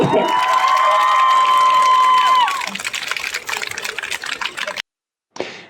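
A crowd applauds and cheers loudly after a marriage proposal to a graduate outdoors in central Lutsk, with a sustained tonal whistle-like element early on, then fading applause before a brief cut and a short final burst.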